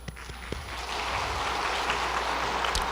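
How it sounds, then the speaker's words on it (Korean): A church congregation applauds during a Sunday worship service, a dense, steady wash of many hands clapping that swells after a few scattered opening claps and then holds at an even level. "박수하겠습니다"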